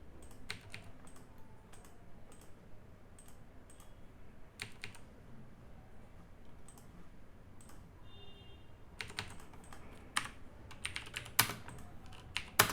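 Rapid, uneven keystrokes on a computer keyboard entering commands in SketchUp CAD software during a furniture design drawing, with clustered bursts of clicks near and alone, growing denser toward the end.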